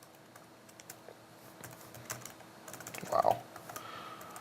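Typing on a computer keyboard, a run of quiet, irregular key clicks that gets busier and louder toward the end, with a brief exclaimed word near the close.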